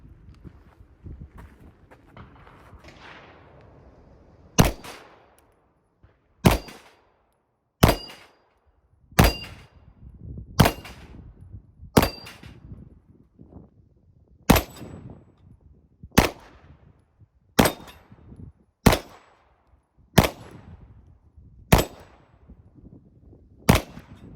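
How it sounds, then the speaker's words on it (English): A custom Ruger 10/22 rifle fires roughly fourteen sharp shots at outdoor steel targets, spaced about a second or two apart, each crack followed by a brief metallic ring from the struck steel. "I'm gonna shoot some steel, see if I can hit them."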